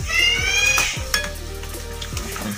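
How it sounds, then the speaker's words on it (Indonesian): Popeda sauce is stirred with a utensil after hot water is poured in, giving close wet scraping and clinking against the pot in repeated strokes, with faint sizzle-like hiss. "Diaduk sampai rata."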